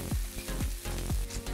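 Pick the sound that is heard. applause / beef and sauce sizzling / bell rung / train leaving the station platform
beef and sauce sizzling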